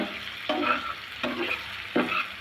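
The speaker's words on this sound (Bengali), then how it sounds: "আমি বারবার নেড়ে চেড়ে মিষ্টি কুমড়াটা ভাজি করে নেব" Sweet pumpkin stir-fried in a pan over medium-low heat hisses softly, with three distinct scraping strokes of a spatula at a steady rhythm, each followed by a brief swell of sizzle.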